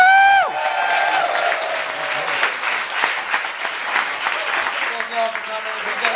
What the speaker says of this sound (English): why don't you guys give all these guys a big round of applause